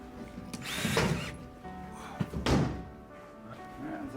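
Screws being driven into the back of a traveling exhibit panel, two short whirring bursts of a power driver with a few mechanical clunks in between, close and moderately loud.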